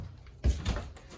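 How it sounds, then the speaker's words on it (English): A pantry door in a 2025 Forest River Wildwood 40RLB travel trailer opens with a soft thump and a short rattling swing, close by in a quiet interior. "Opening up this door gets you into your little pantry space."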